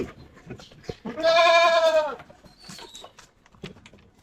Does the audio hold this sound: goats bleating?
yes